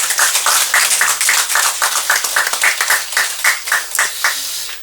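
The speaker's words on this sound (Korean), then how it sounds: "대중과 그리고 신도님들이 함께 큰 박수로 오늘의 환희를 찬탄해 주시면 고맙겠습니다." A congregation clapping together at a Buddhist eye-opening ceremony for five hundred arhat statues, loud close claps struck in a fairly steady shared rhythm with sharp individual hits standing out.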